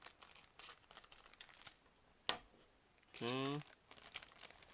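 Scissors or a blade cut through a plastic bag holding sprue for a Meng 1/35 Leopard A3/A4 model kit, giving faint crinkles and one sharp snip, with brief speech.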